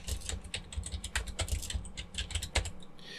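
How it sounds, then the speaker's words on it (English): Someone types on a computer keyboard with rapid, uneven clacks and taps, heard up close at a quiet level with no voices. "And then you start by typing"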